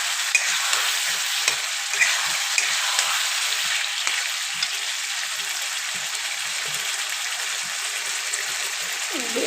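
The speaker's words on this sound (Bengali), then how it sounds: "এবার মশলার সঙ্গে খুব ভালো করে কষাতে হবে" Boiled potatoes are stir-fried with spices in a pan, a continuous bright sizzle with repeated soft scraping stirs at a fairly regular rhythm, close and steady.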